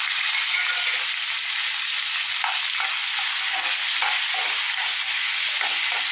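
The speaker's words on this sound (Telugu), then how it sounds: "బాండీ పెట్టుకొని, బాండీలో ఆయిల్ వేసుకొని, పసుపు వేసుకొని కొంచెం మెత్తలు వేయించేసుకున్నాం." Dried fish pieces fry with turmeric in hot oil in a wok, giving a steady, dense sizzle that holds evenly throughout with faint stirring scrapes and no voices.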